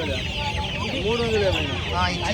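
A pair of cheeti hens at the Mydukuru poultry market cluck close by, one drawn-out rising squawk standing out over continuous flock chatter and background voices.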